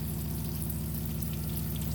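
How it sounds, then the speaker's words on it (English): Salmon sizzling in hot butter in a hot pan, a steady close frying hiss with a low hum beneath it, unbroken for the whole stretch and with no voices. "You want this to be cooking when you put the salmon in. You want the sizzle,"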